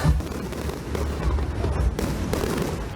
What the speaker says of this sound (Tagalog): the year-end celebrations is still pushed through in Sydney Harbour, Melbourne, Brisbane and Perth